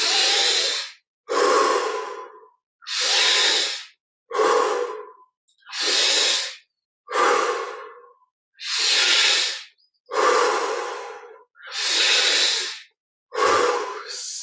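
Deep, slow breaths during a guided meditation, about ten loud close-up inhales and exhales in a steady rhythm, each a breathy hiss separated by short silences.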